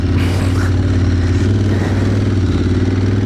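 An Aprilia Tuareg adventure motorcycle ridden off-road on a busy track, its engine a loud, steady close drone with a rough pulsing throb and wind buffeting throughout, with no voices.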